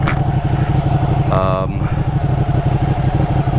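A Ducati 959 Panigale superbike sits in race mode, its engine running with a steady, loud, close rumble that holds throughout, with a brief higher tonal blip partway through.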